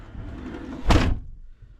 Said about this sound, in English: Let's shut the door here.